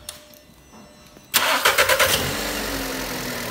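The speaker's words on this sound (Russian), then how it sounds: "Запуск двигателя." A 2015 Skoda Rapid's 1.6-litre CWV engine cranks over after a quiet pause, catching with a few quick pulses and settling into a steady, close idle.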